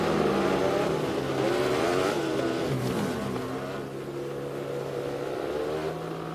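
A Rotax-engined jet ski drones loudly on a lake, its pitch wavering and rising as it runs at speed, then settling into a steady, slightly quieter hum.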